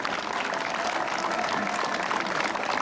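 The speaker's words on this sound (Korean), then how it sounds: "이번 대회에 우리 심판보시이라고 고생하셨다고 큰 박수 부탁드리겠습니다" An audience at a tennis tournament awards ceremony applauds the referees, a steady wash of clapping heard from a moderate distance without a break.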